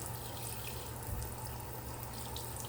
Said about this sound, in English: First, I'm gonna rinse my blade.